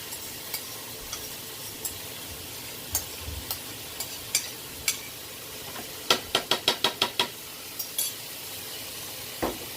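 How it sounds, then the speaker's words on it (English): Canned StarKist pink salmon fries and is stirred in a pan: a faint, steady sizzle under a series of sharp utensil clicks and scrapes, with a quick burst of rapid taps partway through, and no one talking. "So now I'm going to go ahead and add my salmon."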